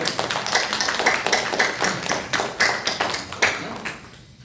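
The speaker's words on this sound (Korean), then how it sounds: "우리 하나님께 영광의 박수를" A church congregation claps together at a Sunday worship service, a dense burst of many hands with sharp irregular peaks that carries on for several seconds before thinning out and fading at the end.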